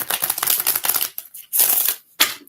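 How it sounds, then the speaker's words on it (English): Tarot cards being shuffled by hand in quick riffling bursts: a dense run of crisp flutters, a pause, then two shorter close-up shuffles, loud and without talk. "One more shuffle."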